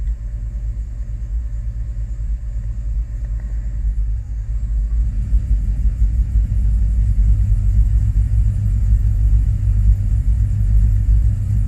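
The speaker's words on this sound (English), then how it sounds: "They're all misfiring evenly." A 2005 Chevrolet Tahoe 4x4 with the 5.3L V8 runs with every cylinder misfiring evenly, giving a steady low, rough rumble that swells slightly louder partway through, with no voices.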